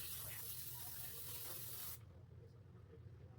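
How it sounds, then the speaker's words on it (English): Makeup setting spray is misted onto a face in a steady, close, hissing spray lasting about two seconds, then cuts off abruptly, leaving a quiet room. "This is like a 3-second setting spray."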